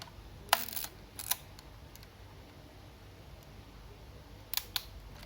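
A Yashica Electro 35 GSN rangefinder camera fires its shutter in a few crisp mechanical clicks, a pair early on and a close double near the end, against near silence.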